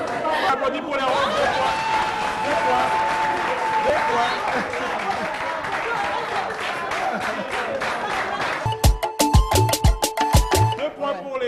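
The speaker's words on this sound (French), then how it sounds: "Applaudis pour les roses." Studio audience at a French team game show claps and chatters loudly in a dense wash for the pink team, then sharp rhythmic clapping in unison near the end.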